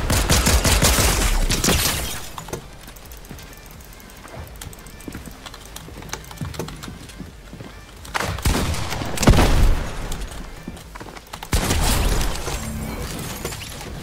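Pistol fire in the Fortnite video game comes in several dense, loud bursts of rapid shots, separated by quieter stretches of game ambience.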